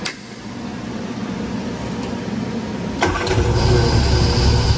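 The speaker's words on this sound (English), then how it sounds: "Let's see if the engine will even run." A car engine runs on a dyno with its fuel mixture pushed extremely lean, a steady mechanical rumble that jumps noticeably louder partway through and keeps running, with no talk.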